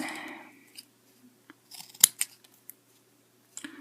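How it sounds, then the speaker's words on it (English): A few short, crisp snips of small scissors cutting through cardboard, spaced irregularly with quiet pauses between, close and fairly faint. "So we're just going to cut this little guy out."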